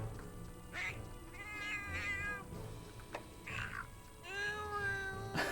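A cat companion character's voice in Monster Hunter 4 Ultimate produces a series of short, whiny meows at irregular intervals, fairly close and clear over a faint background of game music.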